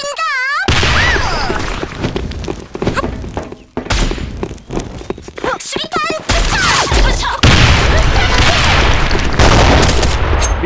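Grenade blasts and gunfire in the online shooter Sudden Attack, a dense run of loud booms and rapid shots that fill the whole stretch, broken by short electronic tones and brief in-game radio voices.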